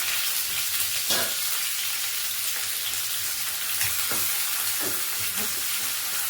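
Shallots, green chili, curry leaves and cumin frying in hot oil for a goat trotter paya curry, giving a steady close sizzle throughout with a few louder crackles and spatters.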